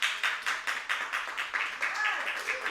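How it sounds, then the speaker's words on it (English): An audience gives a round of applause at a talk and performance event, a fairly faint burst of rapid, evenly spaced clapping that holds steady for a few seconds. "Please give her a round of applause."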